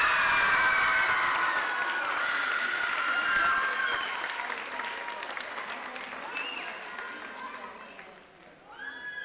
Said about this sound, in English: Please give all of these outstanding choir members a round of applause.